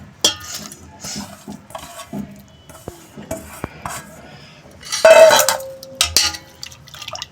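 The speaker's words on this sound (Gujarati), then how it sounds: "હવે આપણે એને છાશ અને દહીં આપણે મિક્સ કરીશું એમાં નાખીશું." Bathua greens and maize flour are mixed with buttermilk and curd in a bowl, with close spoon clinks and scrapes against the dish and a louder pouring splash near the end.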